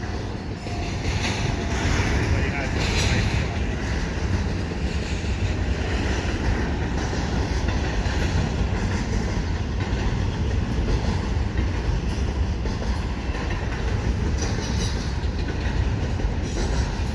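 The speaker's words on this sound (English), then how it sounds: "this is the second big train that came in" A big eastbound freight train passes steadily and loudly close by, its wheels clattering and rumbling without pause across the whole stretch, with faint wheel squeal and no voices.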